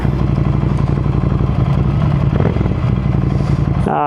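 A Victory motorcycle being ridden, its engine running loud and steady with a rumbling, clattering tone, ending in a brief sharp rattle at the close; no talk over it.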